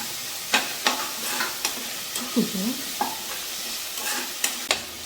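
Ginger, garlic and tomato sautéing in a pan: a soft background sizzle punctuated by repeated sharp scrapes and taps of a spoon stirring, spaced irregularly.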